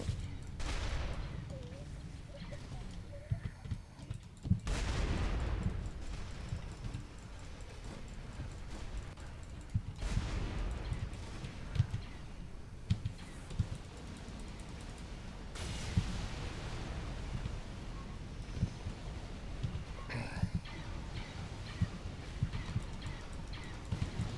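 Rapid autocannon fire from Halo-style UNSC warships in the space strategy game Project Stardust: a dense, steady rattle of shots with heavier booms breaking through every few seconds, continuing throughout.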